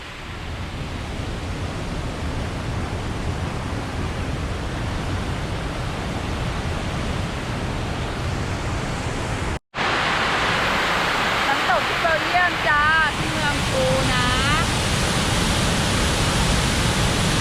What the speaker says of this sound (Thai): น้ำเยอะมากน้ำไหลแรงมาก